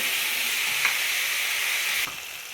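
Mixed vegetables with a chopped tomato sizzle steadily in a pan over gas, a dense, even frying hiss with faint stirring, dropping slightly softer near the end.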